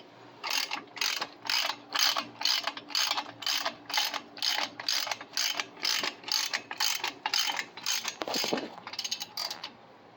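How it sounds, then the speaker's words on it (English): A 3/4 inch ratchet tightens the mount on a Hyper Tough folding four-bike carrier, giving about twenty rapid, evenly spaced clicking strokes close up with no talk, and a brief pause near the end. "let's tighten this up with our 3/4 inch ratchet here"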